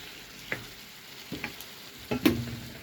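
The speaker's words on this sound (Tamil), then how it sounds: "இப்போ தக்காளி சேர்த்துருக்காங்க நல்லா மிக்ஸ் பண்ணிவிட்டு மூடி வைங்க" Tomatoes are stirred into ginger garlic paste frying in a pan for a chicken gravy. A few distinct spoon scrapes and knocks sound over a quiet background sizzle, with the last stroke the loudest.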